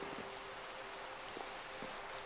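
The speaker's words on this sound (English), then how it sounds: "for as long as it's raining, I'm going to keep doing this because I need clay" Steady rain in the Minecraft video game, a faint, even hiss of falling water with a few soft droplet ticks and no voices.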